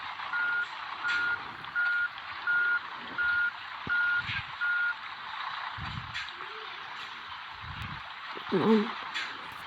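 Steady rhythmic reversing beeps from a truck in a truck simulator game, about seven evenly spaced tones over a low engine hum, with a person talking intermittently underneath.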